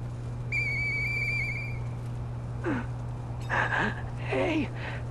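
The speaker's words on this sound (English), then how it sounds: "I know that whistle." Harmonic whistled melody from the video game Lies of P, sounding clear and sustained for about a second and a half over a steady low hum, then followed by short breathy whistle bursts and chirps.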